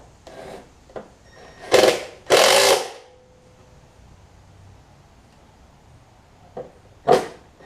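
Bolts being tightened on a Troy Bilt XP push mower with a broken 25mm blade adapter: a few short, sharp ratcheting bursts close by, separated by quiet pauses.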